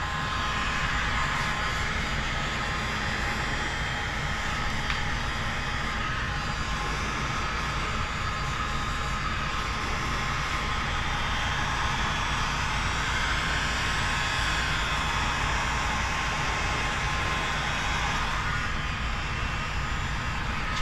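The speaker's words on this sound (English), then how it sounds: "Okay, so I've got the heat gun." A heat gun blows hot air along the edge of paint protection film on a 2024 Toyota Crown mirror, giving a steady, airy rushing roar. It stays constant for the whole stretch, with no talking.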